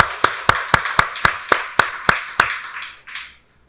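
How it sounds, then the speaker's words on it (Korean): A church congregation clapping in unison at a Sunday service, about ten sharp, evenly spaced claps in a quick steady rhythm before the sound trails off. "박수로 하나님께 영광 돌리겠습니다"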